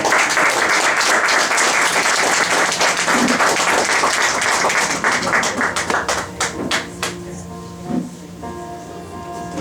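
A church congregation breaks into loud, dense applause that thins after several seconds into scattered, separate claps and taps, with a voice speaking faintly underneath.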